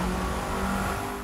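Bugatti Veyron engine in the racing video game The Crew 2, a loud continuous droning roar held steady through the short stretch with no voices over it.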